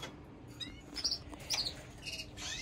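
A small canary chirps in short, bright bursts, several quick tweets spaced across a few seconds, close by over faint background noise.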